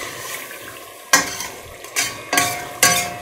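Meat sizzles steadily in a pan while being cooked for Turkish kuru fasulye, broken by four sharp clattering scrapes of stirring against the pan, close and fairly quiet.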